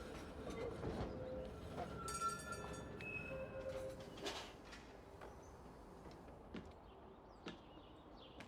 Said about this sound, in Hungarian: Menő ez a villamos.